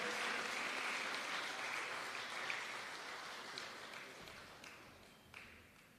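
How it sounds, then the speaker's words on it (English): Audience applause at a student recognition ceremony, a steady sustained wash of many hands clapping from the crowd that slowly fades over several seconds, with no voices. "I think she deserves an extra round of applause for her brave effort."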